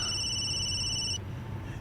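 A cellphone rings loudly with a bright electronic tone that holds steady for just over a second, then cuts off, leaving quiet room noise.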